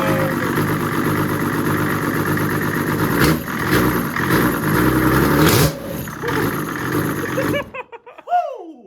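A Datsun fitted with a diesel 2JZ engine idles and revs loudly up close, its rough rumble surging in several blips before cutting off, leaving a brief quieter tail with a faint whistle-like sweep.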